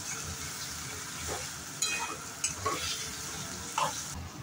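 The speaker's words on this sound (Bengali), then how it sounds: "ভালো করে একটু ভেজে নিতে হবে এটাকে" Chopped ingredients fry in a pan with a continuous sizzle, while a spoon stirs them and scrapes the pan in several distinct strokes.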